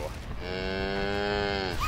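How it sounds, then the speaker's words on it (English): Cow mooing in a video game, a single drawn-out low moo lasting under two seconds, clear and alone. "Ooh, cow? Wise Gentle cow? bovine!"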